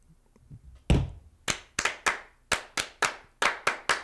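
Group hand clapping at a Freemasonry gathering: one heavy clap followed by a rhythmic sequence of about a dozen sharp, close, loud claps in uneven groups, with no talk.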